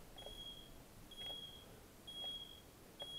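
A tribo-electric static field detector emits four short, evenly spaced high-pitched electronic beeps about once per second over a faint background hiss, with no voices present.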